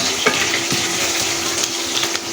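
Sliced onions fry in a pan until reddish-brown, giving a continuous close sizzle with a few soft stirring scrapes and no talking.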